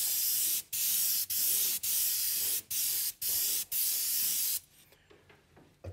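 An airbrush sprays candy yellow paint for flame artwork in short hissing bursts, about seven close, loud pulses separated by brief gaps, followed by quiet handling noise at the end.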